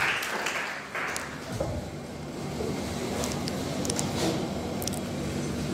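Audience applause at a coaching institute's victory celebration honouring a NEET topper, a dense, steady wash of clapping filling the room for several seconds at moderate level.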